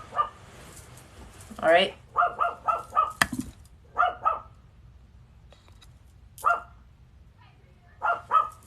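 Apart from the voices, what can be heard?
dog barking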